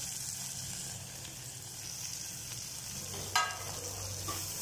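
Finely chopped dill and spinach turn in hot oil, giving a soft continuous frying hiss with occasional faint stirring scrapes and one small clatter near the end.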